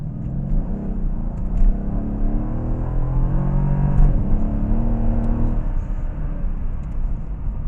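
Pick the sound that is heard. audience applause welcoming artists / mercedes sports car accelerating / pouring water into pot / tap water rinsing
mercedes sports car accelerating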